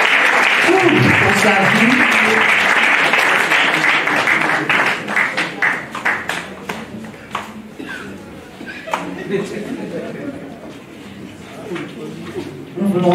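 A church congregation applauding and cheering the Lord, dense clapping that rises loud then thins into scattered claps, with chuckles and a voice speaking over it.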